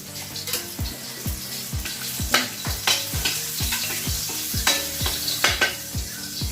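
Garlic sizzles in a hot pan as it is sautéed toward golden brown, with a steady frying hiss under regular scraping strokes of a utensil stirring the pan, close and fairly loud.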